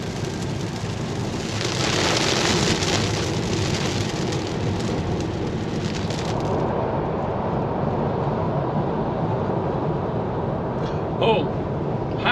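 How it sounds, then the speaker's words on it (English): Rain falling steadily outside an Audi e-Tron electric car on a road trip, a dense continuous hiss of drops on the surface, heavy at first and then easing to a softer, constant patter. "And it's raining."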